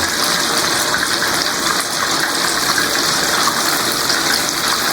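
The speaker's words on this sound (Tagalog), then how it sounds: "Lagyan natin ng konting mainit na tubig yung ating nyug." Hot water gushes in a steady, loud, continuous stream onto grated coconut, being poured to make coconut milk.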